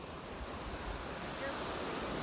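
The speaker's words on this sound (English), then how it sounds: "So here we are at the Atlantic Ocean." Atlantic Ocean surf beside an air force base, a steady full wash of breaking waves with wind buffeting the microphone, continuous and loud, no voices.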